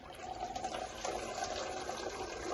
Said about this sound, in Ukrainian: дуже швиденько він розчиняється і заливаємо